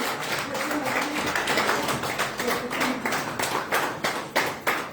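Scattered hand claps from an audience at a women's programme, irregular taps rising toward the end, with a faint murmur of voices underneath.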